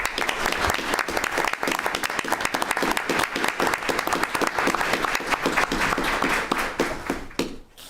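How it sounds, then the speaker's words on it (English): Steady, dense applause from a school board meeting audience as high school students who represented Weslaco ISD at state level walk into the room, loud and sustained for several seconds before fading at the end. "How about a round of applause as they enter the room?"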